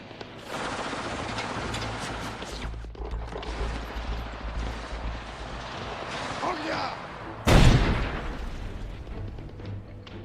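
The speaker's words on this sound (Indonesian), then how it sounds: "lesatan peluru artileri Polandia berhasil menghancurkan posisi Jerman di menara" A sharp, loud blast of Polish artillery fire erupts near the end over a continuous rumbling battle din, with scattered distant gunfire throughout, in the 1939 Polish battle against Germany.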